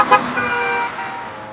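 A single short car horn toot near the start, followed by the steady hum of passing traffic.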